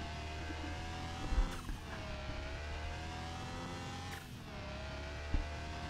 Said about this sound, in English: we're going to put the back brakes on, we're going to rev it up.